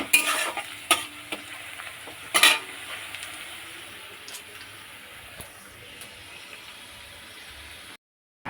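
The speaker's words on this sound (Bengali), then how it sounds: "দেখো সবজিটা একটু ভাজা ভাজা হয়ে যাক, এই পেঁয়াজ এগুলো একটু ভাজা ভাজা হলে" Vegetables and onions frying in a pan, with a steady sizzle broken by sharp stirring clanks and scrapes of a utensil against the metal, close and fairly loud, no talking.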